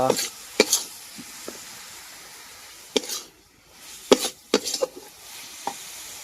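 Motichur laddu mixture being stirred with ghee in a pan, a spoon scraping and knocking in several sharp strokes over a soft sizzle, up close and with no speech.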